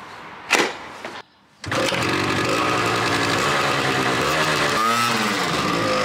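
A motorcycle engine rumbles loudly and steadily while riding, with brief revs and gear changes near the start.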